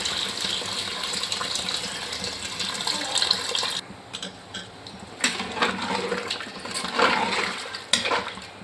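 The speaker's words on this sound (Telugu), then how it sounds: "ఇప్పుడు వేడి చేసుకున్న నీళ్ళు వేసేసుకుందాం" Hot water pours into a pot of goat head curry, a steady close gush of liquid for several seconds that then breaks into intermittent splashes and pouring bursts.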